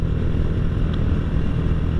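A Honda Astrea Grand motorcycle fitted with a Bobokan bass exhaust idles with a deep, steady low rumble, close and loud, holding even throughout without revving.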